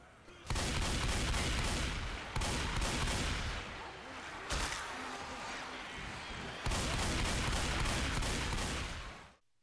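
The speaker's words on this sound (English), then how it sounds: "here is an example of what the auto shotgun is like" Auto shotgun fire in the video game Left 4 Dead 2, loud bursts of rapid shots in four long runs separated by short pauses, each run booming and cracking with dense echoing blasts.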